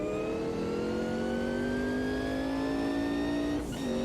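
A race car engine at Hockenheim in the video game Automobilista 2, a loud, steady high-pitched whine climbing smoothly in pitch as it revs up, then dropping sharply near the end on a gear change.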